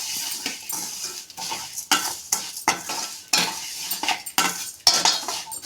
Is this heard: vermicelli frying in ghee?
yes